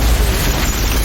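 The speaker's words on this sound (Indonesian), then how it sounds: "sebuah ledakan muncul yang langsung membuat mereka berdua terpental" A film-scene explosion erupts as a loud, sustained broadband roar with heavy low rumble, filling the whole second without a clear onset or any speech.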